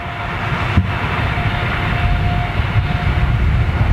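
Boeing 747 jet engines roar in a steady, loud, broadband wash that holds constant throughout with no voices, only slight swells in intensity.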